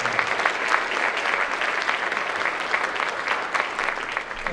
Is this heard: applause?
yes